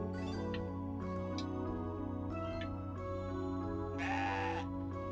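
A goat in the video game CrossCode bleats repeatedly over a steady musical background, with several short bleats followed by a longer, louder wavering call near the end.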